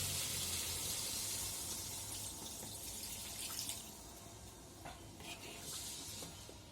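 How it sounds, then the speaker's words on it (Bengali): Water is poured into a pan of eggplant and small-fish curry, a faint splashing trickle with light clinks of cookware. "জল দিয়ে দেবো এখন, সামান্য একটু জল দেবো"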